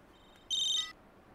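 A telephone gives one short, bright electronic ring burst, loud and clear against a faint, quiet room background.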